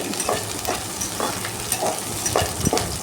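Curry leaves sautéing in hot oil, a continuous close sizzle punctuated by regular scraping strokes of a spoon stirring in the pan, with no talking.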